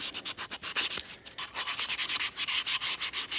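Sandpaper is rubbed back and forth along the edge of an outboard propeller in quick, regular scratchy strokes, close and fairly loud, with a brief pause near the start.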